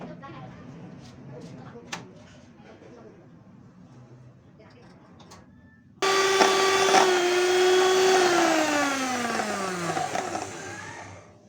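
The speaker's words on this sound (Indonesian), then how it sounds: "Whipped creamnya sudah jadi, bawahnya saya kasih es ketika memixer supaya cepat mengembang." Electric hand mixer whipping cream in a bowl set over ice, starting abruptly as a loud, steady whirring motor hum that later drops in pitch as the cream thickens, preceded by quieter kitchen handling noises.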